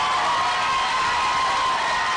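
A school audience's applause mixed with cheering and shouting, a dense, loud, continuous crowd roar filling the whole moment with no pause.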